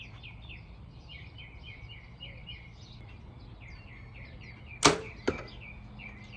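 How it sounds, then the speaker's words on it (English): An arrow with a field tip is shot from a Mathews bow, a sharp thump followed by a second impact close behind, with birds chirping steadily in the background outdoors. "That was a bad shot with the field tip."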